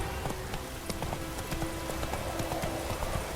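A horse gallops in the video game The Witcher 3, its hooves drumming in a steady clip-clop rhythm over a dense, noisy game soundscape.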